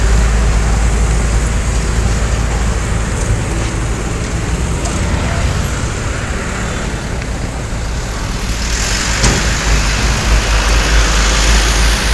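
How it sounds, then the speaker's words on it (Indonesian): Steady road traffic in a jam, heard from aboard an ALS intercity bus travelling to Medan, a continuous loud rumble of engines with broadband roadway noise throughout and no talk. "Ya seperti biasa, macet jalan."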